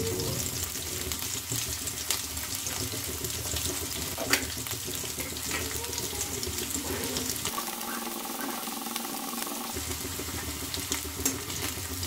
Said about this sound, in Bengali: তেল গরম হয়ে গেছে, তেলের মধ্যে দিয়ে দিচ্ছি একটু বেশি করে রসুন কুচি আর একটু আদা কুচি